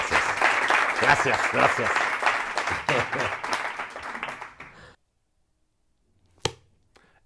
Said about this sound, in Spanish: Así que si le regalan un aplauso a Darío.